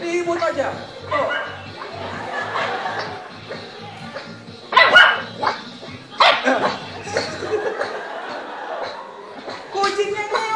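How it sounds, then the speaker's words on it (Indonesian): Two caged dogs bark in sharp, loud bursts with yips and whimpers in between, close by, while someone talks and chuckles over the noise. "Jagonya aja gonggong-gonggong."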